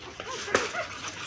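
A female puppy gives a brief high whimper, with one sharp yelp-like peak amid soft background noise and faint voices nearby.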